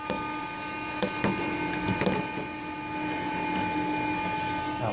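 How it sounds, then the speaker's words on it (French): A loud cooling fan inside a gaming PC runs as a steady, close whirring roar with a constant tonal whine, broken by a few brief clicks and knocks. "désolé de vous avoir agressé aux oreilles, mais ce ventilateur-là, je l'ai mis en urgence"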